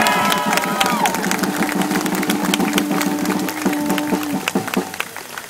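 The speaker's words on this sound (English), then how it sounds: "So let's give everybody a round of applause for being here today." A large rally crowd for education cheers and claps loudly, with shouts, whistles and scattered voices layered over a dense, sustained roar.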